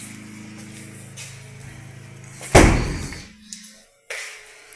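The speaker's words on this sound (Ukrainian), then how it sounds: "це я ці двері просто гупнув" A single loud slam of a door in an abandoned building, sharp and close, followed by a brief rattling decay and then a quieter knock.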